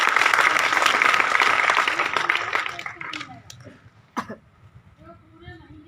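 Students and staff clapping at a school sports event, a dense burst of applause for about three seconds that thins into scattered claps, coughs and murmuring voices.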